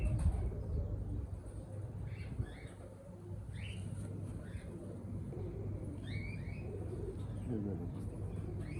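Breeder pigeons coo softly in short repeated phrases over a steady low rumble of outdoor background noise.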